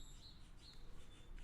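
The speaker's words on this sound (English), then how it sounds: "You might be able to hear the birds in the background." Faint high chirps from birds in the distance, a couple of brief calls over a low, quiet outdoor background.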